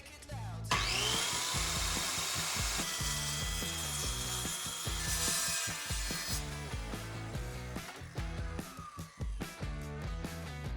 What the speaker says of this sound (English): To cut them to size, I used a jigsaw.